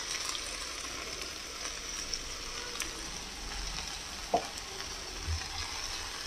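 Radish greens dropped into a frying pan of half-softened winter vegetables, giving a steady, moderately loud sizzle and frying hiss with a sharp clatter partway through and a soft thump near the end.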